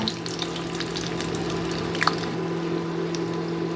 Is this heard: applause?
no